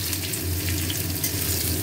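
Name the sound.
potatoes frying with spices in a wok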